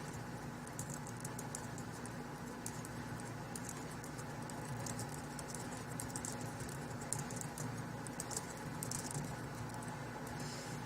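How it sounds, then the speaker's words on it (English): Computer keyboard typing as text is entered in a design program, a steady run of rapid light key clicks over a constant low hum, no voices. "and just start typing."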